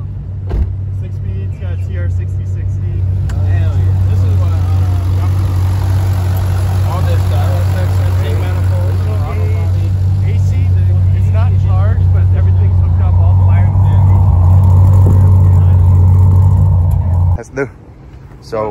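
A 2013 Scion FR-S fitted with a swapped 2006 Corvette LS2 V8 rumbles steadily and loudly up close for most of the stretch, a deep, continuous exhaust drone that cuts off near the end, with people's voices mixed in over it.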